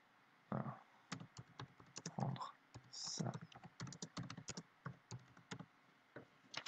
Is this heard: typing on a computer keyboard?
yes